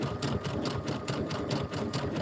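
An embroidery sewing machine stitching in the hoop runs at a quicker speed, giving a steady, rapid, even chatter of needle strokes, moderately loud and continuous with no voices.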